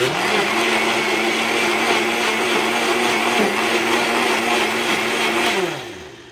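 A Walmart Mainstays 6-speed blender whirs loudly and steadily with water churning inside, its motor pitch holding level before spinning down at the end.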